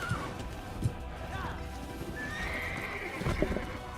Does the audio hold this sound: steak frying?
no